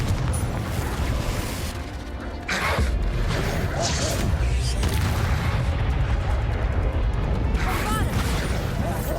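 Confringo spell blasts go off in Hogwarts Legacy combat, with heavy booms and crashes bursting over a constant rumbling din, and a sharp impact standing out near the middle.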